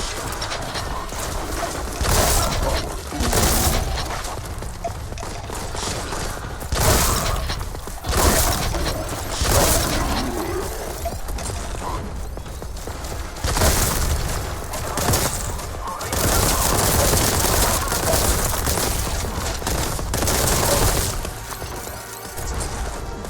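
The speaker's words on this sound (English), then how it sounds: "I hear the gunfire, I don't see him." Bursts of rapid gunfire crackle repeatedly over a dense, noisy game soundscape, with sharp impacts and crashes scattered throughout.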